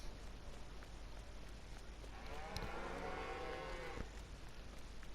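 Cows low on a farm in Farming Simulator 19, one long drawn-out moo swelling up and fading over a steady outdoor ambience, fairly close and alone with no voices.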